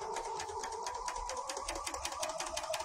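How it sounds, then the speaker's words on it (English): A serger sews a four-thread serge chain with a fast, even mechanical chatter. The stitching rattles steadily for about three seconds, close and moderately quiet, with no voices. "I'm just going to do a four thread serge and take it out"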